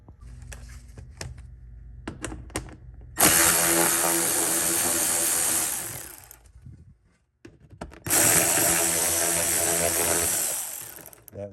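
A power tool spins a stripped screw in the fender liner of an Audi Q5 during front bumper cover removal: two long, loud whirring bursts with grinding, separated by a short pause, after softer clicks and handling.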